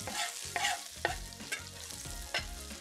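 Scallions from a home farm frying in about 1.5 tablespoons of hot oil in a pan, a steady close sizzle broken by several rhythmic stirring scrapes.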